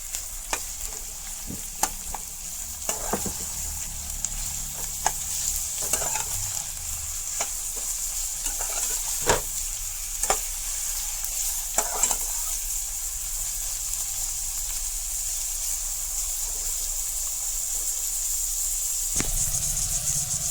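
Onion stirred and fried in ghee keeps up a steady sizzle, with intermittent scraping clicks from the stirring utensil breaking through at irregular intervals, close and without talk.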